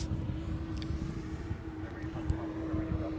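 A Hawaiian Airlines passenger jet, Flight 6 bound for Las Vegas, rumbles at Honolulu airport with a steady low engine drone and a sustained hum, under faint background voices.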